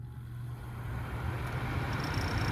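Heater blower motor from a Triumph TR6, running on low speed, gives a steady low hum and whir that holds evenly and stays close, with no voices over it.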